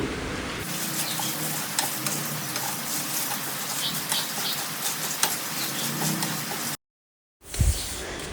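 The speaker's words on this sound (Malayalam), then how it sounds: "മസാല ആദ്യം ഒന്ന് ചൂടാക്കി എടുക്കണം പൊടിപ്പിക്കാൻ വേണ്ടിയിട്ട്." Masala spices heating in a pan while preparing Alfaham give a steady, close sizzling crackle that runs almost unbroken, drops out briefly near the end, and then returns with a louder clatter.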